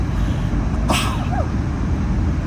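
A single sharp sneeze bursts out over a steady loud engine-like hum, brief and close, during a flight approaching New York.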